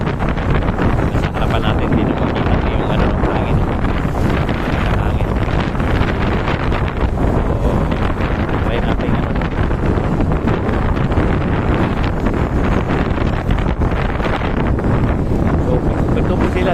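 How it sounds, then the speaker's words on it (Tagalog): Strong wind roars into the microphone nonstop, a loud heavy rumble with gusty buffeting, and a voice speaks briefly underneath. "Malakas ang hangin."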